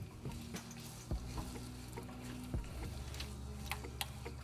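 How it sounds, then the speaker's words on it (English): Potatoes frying in desi ghee in a karahi, a steady soft sizzle with a few sharp clicks and scrapes of stirring at close range, no voices. "Potatoes roasted in Desi ghee are very tasty."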